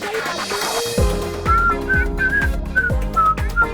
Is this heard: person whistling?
yes